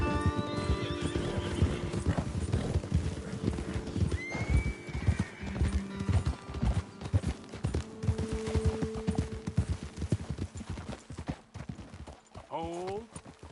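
Horses' hooves clip-clopping in Red Dead Redemption 2, a busy irregular clatter of steps close by, with a horse whinnying and snorting, and a voice speaking over the hoofbeats.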